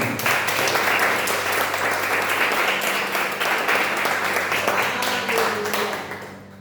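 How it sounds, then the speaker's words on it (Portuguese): A congregation at an evening church service held in a garage breaks into lively, sustained applause, many hands clapping close and loud before tapering off at the end, with faint voices mixed in. "vamos aplaudir de novo"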